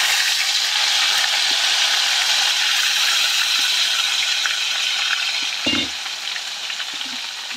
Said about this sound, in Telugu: ముందుగా కట్ చేసిన ఆనియన్స్, గ్రీన్ చిల్లీ అలానే క్యారెట్ కూడా వేసేసుకొని, గ్రీన్ పీస్ కూడా ఉంది కదా అది కూడా వేసేస్తున్నా